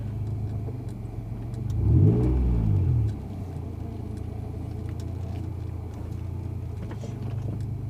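An early Honda NSX sports car engine swells briefly as it accelerates while driving on the road, over a steady low rumble of cabin and road noise, with no talk.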